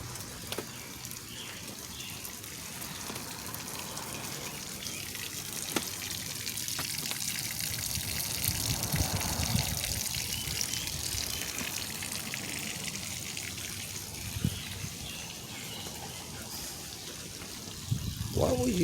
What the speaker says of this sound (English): they draining the water out of it